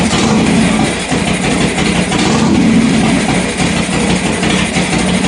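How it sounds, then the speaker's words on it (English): Harley-Davidson Sportster motorcycle engine idling, a loud, close, steady low rumble with a slightly uneven throb that continues throughout, with no talking. "I feel okay about that idle right there."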